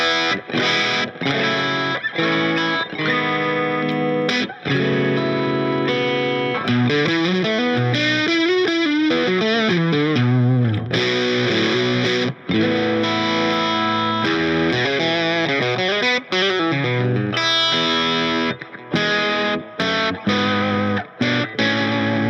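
A heavily distorted electric guitar plays continuous chords and riffs with bends, thick and loud, no voices.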